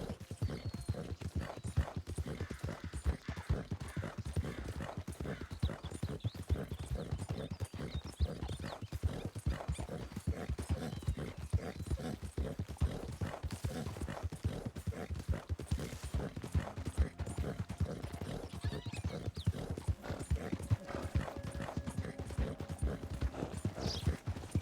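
Horses' hooves clop in a steady galloping rhythm throughout Red Dead Redemption II, with an occasional neigh and game sounds layered over the hoofbeats.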